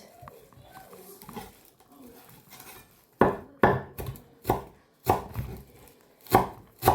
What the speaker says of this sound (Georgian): ეხა დავჭრათ წვანილი